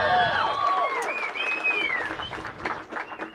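Audience applause and clapping from a crowd at a political speaking event, a dense burst that fills the moment and tapers slightly, with a voice rising over the clapping partway through.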